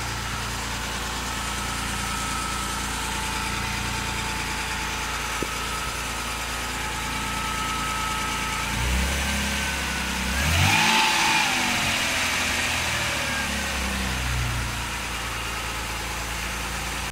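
A Mitsubishi FTO's 6A12 engine idles steadily and close up after cambelt, water pump and half moon seal work, then gives a short rev that swells and settles back to idle.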